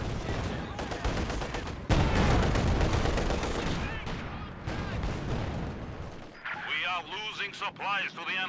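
Gunfire in a strategy video game during a 1v1 tournament match: dense bursts of rapid shots and artillery-like booms, loud and sustained, fading into scattered shots under a commentator's voice.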